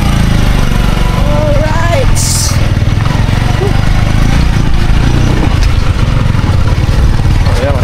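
Motorcycles riding along a road, a steady loud engine drone running throughout with people talking over it.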